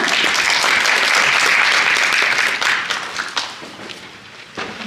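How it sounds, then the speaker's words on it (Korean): A crowd applauds loudly, a dense wash of clapping that holds steady, then thins out and fades to scattered claps. "큰 박수 부탁드리겠습니다"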